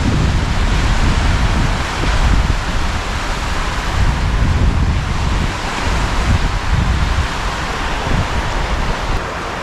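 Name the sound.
waves on a big freshwater lake shore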